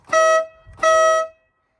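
Two loud honks from the horn of a Kawasaki Ridge side-by-side utility vehicle, each about a third of a second long, sound one after the other with a short gap between them.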